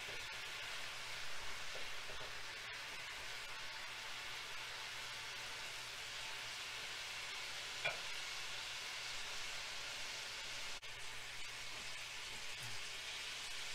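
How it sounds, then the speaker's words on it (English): Chicken curry sauce simmering and reducing in a pan, giving a steady soft sizzle and bubbling hiss with faint occasional stirring clinks, quiet and continuous. "Alright, the sauce is reducing."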